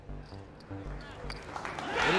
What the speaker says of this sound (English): you can hear how the crowd feels about that. They're going crazy here at Esports Arena